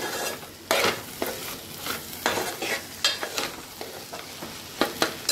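A spoon stirs onion and tomato frying in a pan for egg bhurji, giving sharp scraping strokes at an irregular pace over a steady soft sizzle.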